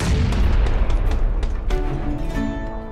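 A grenade detonates in the battle royale game PUBG, a loud, close boom with a long rumbling tail, followed by scattered sharper bursts as the blast fades.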